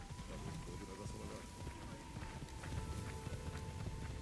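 Horse hooves clip-clop in the video game Assassin's Creed Shadows on Xbox Series X, a steady running rhythm under an even bed of ambient game sound, faint and continuous.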